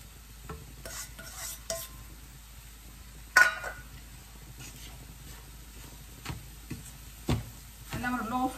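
Powdered sugar is stirred into a kolukattai mix, heard as soft scraping and rustling with occasional clinks of a spoon against the vessel, fairly quiet and close, with no talking.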